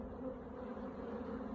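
A full hive box of honeybees hums loudly and continuously in an open apiary colony, the buzzing of many bees steady and close without any voices.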